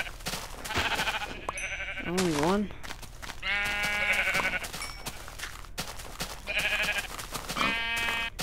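Minecraft sheep bleating in a flock, several wavering bleats repeating over a few seconds, close and fairly loud, mixed with a player talking over the game.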